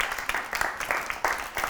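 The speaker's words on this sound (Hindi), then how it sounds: "मार्फा वालों के लिए बहुत सारी तालियां" A studio audience on a morning TV show claps in short, uneven bursts of applause, fairly close and moderately loud.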